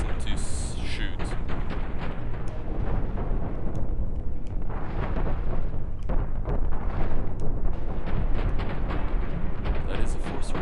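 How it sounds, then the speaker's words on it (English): Chain guns firing in the space-ship battle game Cosmoteer, a continuous loud barrage of rumbling booms and rapid shots layered over each other, with a voice talking throughout. "So if your chain guns have ammo, you can force them to shoot."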